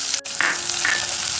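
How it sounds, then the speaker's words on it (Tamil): Onions, chana dal and urad dal fry in hot oil in a pan, giving a steady close sizzle with a brief stir and pan scrape, no talking. "கடலைப்பருப்பு உளுந்தம்பருப்பும் செவந்ததும் வெங்காயத்தை போட்டுக்கலாம்"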